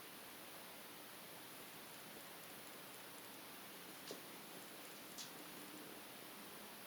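An air purifier running in a bedroom gives off a steady, soft broadband hiss like white noise, unbroken throughout with a couple of faint brief clicks.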